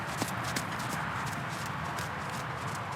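Hooves of a well-balanced horse clip-clopping in a steady walking rhythm, fairly faint and continuous over a constant background hiss, with no talking.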